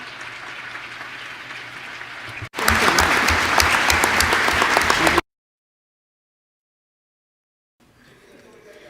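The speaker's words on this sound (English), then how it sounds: "I'd like to give them a round of applause for the hard work" Delegates at the closing session of the CBD COP15 biodiversity conference applaud the group facilitators: after a stretch of background sound, loud, dense clapping bursts in for nearly three seconds, then stops dead into silence before faint room sound returns.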